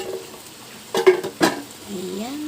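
Air-fried dried danggit fish being stirred into sautéed tomato, onion and garlic, heard as a couple of close scraping, clattering utensil strokes in a pan over a soft steady sizzle.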